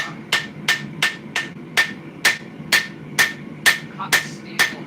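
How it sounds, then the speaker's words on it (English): Hand hammer pounding a hot steel sword blade at a forge, ten evenly spaced ringing strikes about every half second, close and loud with no talk. "After 3 days of pounding swords out by hand"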